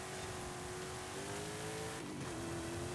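A race car engine in Forza Horizon 5 during Pro-Stock Cup practice holds a steady, loud drone with a sustained tone that dips briefly near the end as the revs shift, then settles back.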